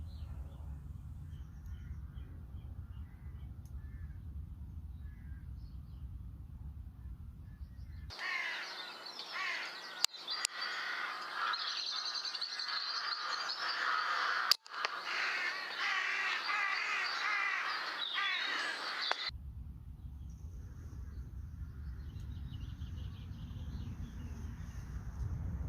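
Crows cawing out in the open during a crow shooting session, faint and distant over low wind rumble, with a louder rushing noise covering the middle stretch.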